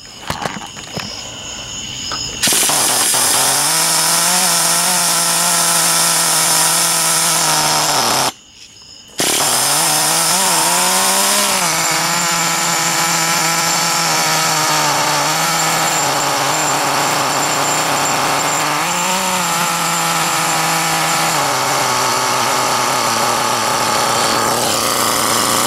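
A Traxxas T-Maxx 3.3 nitro RC truck engine runs after a cold start, a loud, buzzy two-stroke whine that rises and falls in revs, cuts out briefly, then keeps revving up close.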